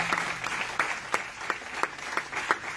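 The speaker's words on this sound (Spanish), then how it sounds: "si lo va a aplaudir, apláudale fuerte" A church congregation claps in rhythm during a sermon, making evenly spaced, moderately quiet claps at about three per second over a low room murmur.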